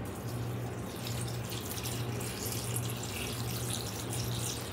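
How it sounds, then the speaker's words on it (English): Tap water pours steadily into a pot of soaked beans, a continuous full splashing rush with a low hum beneath it, close and unbroken throughout. "I'm just going to cover this with water."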